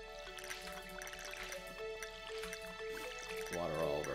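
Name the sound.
watering plants with watering can in Stardew Valley video game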